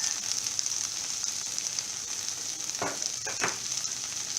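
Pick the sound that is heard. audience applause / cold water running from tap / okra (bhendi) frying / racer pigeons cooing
okra (bhendi) frying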